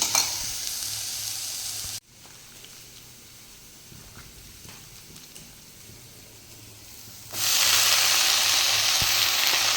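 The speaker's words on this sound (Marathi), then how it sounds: "फुलं जे आहेत ते परतून घ्यावं लागतं" Hadga flowers sautéing in a hot pan with green chillies for a bhaji, a steady close sizzle that drops quieter for a few seconds mid-clip, then swells back loud with stirring scrapes.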